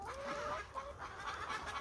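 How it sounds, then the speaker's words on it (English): An old goose calls near, a string of harsh honking and clucking notes that run on steadily over a low background rumble. "You are totally necessary because you watch for aerial predators. And you are a grand old goose."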